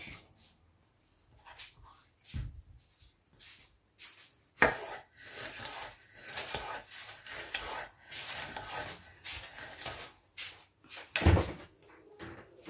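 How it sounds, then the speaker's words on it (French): A knife finely chops food for a tomato tarte tatin on a wooden board, giving a series of close, dull taps and scrapes with uneven pauses and a few sharper knocks. "Donc on va couper ça assez finement."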